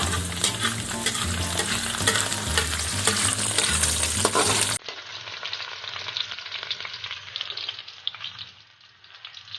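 Chopped garlic frying and sizzling in a pan, browning, with a steady loud crackle and stirring scrapes that continue throughout and soften toward the end.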